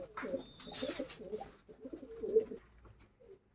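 Racing pigeons coo in soft, throaty bursts, several low rolling calls in a loose sequence, fairly faint and close, with a brief high chirp early on.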